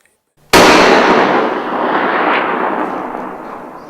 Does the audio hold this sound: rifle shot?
yes